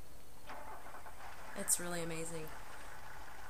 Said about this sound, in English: And here we go. Starting it up.